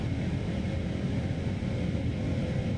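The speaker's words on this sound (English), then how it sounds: "Man, them engines sound so good. I love the A380." Airbus A380 jet engines in Microsoft Flight Simulator 2024, a steady, loud broadband roar with a deep low rumble that holds unbroken throughout.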